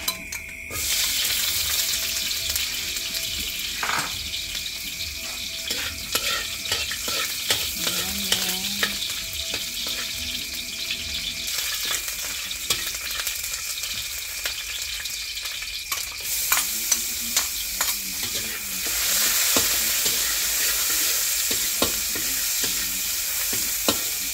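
Pork adobo with plenty of garlic frying and being stirred in hot oil, a steady loud sizzle running throughout with occasional scraping and stirring clatter, no talking.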